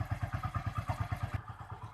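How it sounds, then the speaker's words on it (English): A vehicle engine idles with a steady, rapid pulsing chug during an exhaust gas analysis test, the beats evenly spaced and close, with no talking. "Now the valve is inserted in the vehicle while the vehicle is in idling position."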